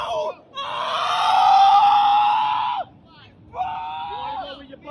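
A man screams during an arrest in a sustained, loud, strained wail lasting a couple of seconds, then breaks off into a shorter second cry after a brief pause, with no speech.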